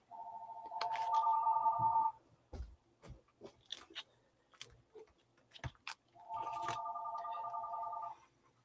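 A landline telephone rings in two clear bursts at the start and end, loud and near. Scattered clicks, crunches and small handling noises from junk journal decorating fill the gap between the rings. No one speaks.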